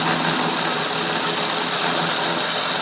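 An Atlas lathe set up for milling an ATV bracket runs with a steady, continuous mechanical hum and broadband whir as the carriage handle is turned, holding an even level throughout with no talk.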